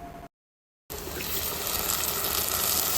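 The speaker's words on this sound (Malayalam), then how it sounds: "അരപ്പിലേക്ക് നമുക്ക് ആവശ്യമായിട്ടുള്ള വെള്ളം നമുക്ക് ഒഴിച്ചു കൊടുക്കാം." Water gushes steadily into ground roasted coconut paste for a Kerala-style shark curry, a close, continuous pouring rush that follows a short silent break.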